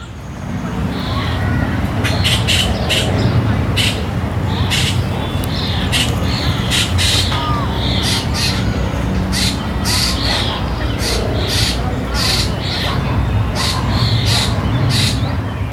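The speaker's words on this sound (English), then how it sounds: "that noise there is a young, I think, grackle" In Prospect Park, Brooklyn, a young grackle gives repeated harsh, squawking calls at a moderate distance over steady traffic rumble and other bird sounds.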